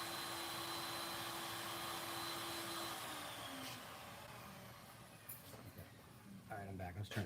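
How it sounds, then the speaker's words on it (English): A vacuum cleaner runs steadily nearby, a constant whine and roar that fades a little partway through, followed by clattering and handling noises near the end. "I was trying to see what that vacuum situation was."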